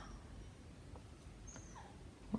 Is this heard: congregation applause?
no